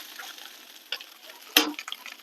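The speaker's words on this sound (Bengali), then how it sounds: "ভালো করে মাংসটার সাথে ভেজে নিছি" Chicken pieces frying in a pan for chicken polao, a soft steady sizzle broken by a few stirring scrapes and one sharp clatter midway, close by with no talking.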